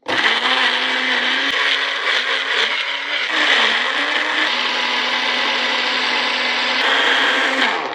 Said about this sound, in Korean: 그래서 이제 굵게 갈아주는데